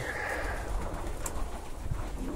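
Pigeons cooing in a pigeon loft in winter, a continuous low burbling coo close by with soft rustling, no voices.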